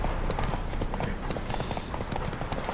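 Galloping horse hooves in The Witcher 3 video game during a horse race, a fast, loud, steady clip-clop drumming continuously and close by with no pauses.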